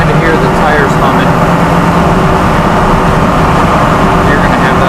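Loud, steady road roar of big truck tires humming on pavement, with the engine of a Ford 6.0 Powerstroke diesel underneath, continuous throughout.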